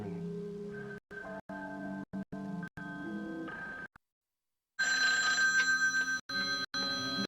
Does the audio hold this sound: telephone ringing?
yes